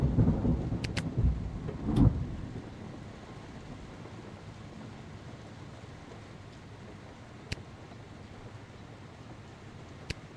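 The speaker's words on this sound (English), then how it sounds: "It's raining very heavy outside. The thunder is also very loud." A heavy thunderstorm opens with a loud, deep rumble of thunder that fades into a steady hiss of heavy rain, with a few sharp faint clicks later on.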